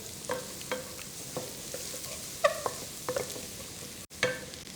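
Chopped garlic, a full tablespoon, frying over high heat in melted butter in a pan, giving a soft steady sizzle with occasional stirring clicks and scrapes, close and alone with no talk.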